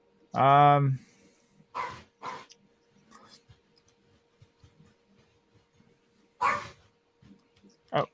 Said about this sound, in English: he's barking the bark of a hungry dog